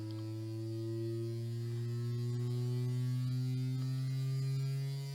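A cheap budget Bluetooth speaker playing a steady low 100 Hz test tone, a continuous droning hum with buzzy overtones, holding level and close throughout with no voices.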